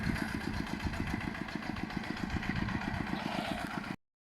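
An old Kubota tractor engine running in a rice field, a steady close chugging idle with regular rapid pulses and mechanical clatter, alone until it cuts off abruptly.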